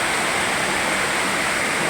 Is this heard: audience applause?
no